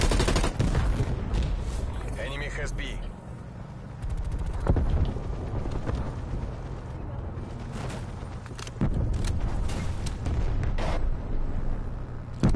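Gunfire and a napalm strike in Call of Duty Cold War: dense bursts of rapid shots and sharp cracks over a rolling fiery roar, loud and close, with a voice talking intermittently over the din.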